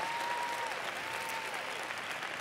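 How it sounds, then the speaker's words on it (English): Audience applause for service members at a CPAC event, a steady wash of many hands clapping at moderate level, heard from a distance across the room and continuing throughout. "Let's give them a round of applause."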